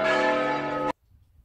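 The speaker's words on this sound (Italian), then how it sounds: "Le campane!" Church bells ring out loud in the old town centre of Tricarico, an Arab-Norman hill town in Italy, sounding a sustained, resonant peal that cuts off abruptly after about a second, leaving faint background noise.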